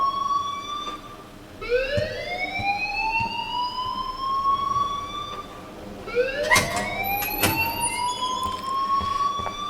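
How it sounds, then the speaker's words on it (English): A fire alarm wails in the game Life is Strange, a rising siren-like tone that sweeps upward twice, loud and close over a low background hum. "please turn off that alarm since that's your job"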